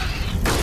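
A dull explosion booms in the sci-fi tactical shooter Aliens: Dark Descent as Marines fight alien creatures, a brief rumbling blast that swells midway and rolls on through the rest of the short moment.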